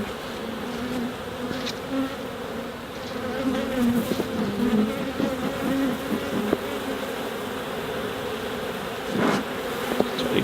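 Honey bees swarming around an open hive infested with small hive beetles, a dense continuous buzz close by with individual bees droning past, no talk.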